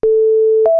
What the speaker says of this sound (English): let's switch that oscillator over to basic shapes and we start off with a sine wave